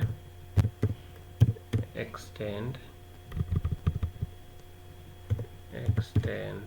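A computer keyboard clicks in short, scattered bursts during AutoCAD drafting work, close and fairly light, with someone talking intermittently over the keystrokes.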